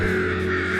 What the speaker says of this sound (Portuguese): Quando encontram os corpos de corvos mortos, às vezes eles começam a piar alto